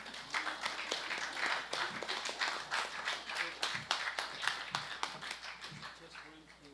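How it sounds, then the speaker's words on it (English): Round of applause at a World Tuna Day 2024 event in the Marshall Islands, fairly faint scattered clapping with distinct individual claps, continuing steadily with voices underneath. "Can we give a round of applause for Bo Bigler"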